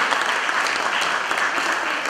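Sustained audience applause at an awards ceremony for a school arts competition, a steady dense wash of many hands clapping with no voices over it.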